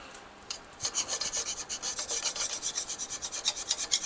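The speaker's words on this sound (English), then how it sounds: "Carbide scraper here." Carbide scraper rasping across a Shovelhead engine cylinder head in quick repeated strokes, a close, bright scratching that starts after a brief pause and keeps a steady back-and-forth rhythm, with no talking.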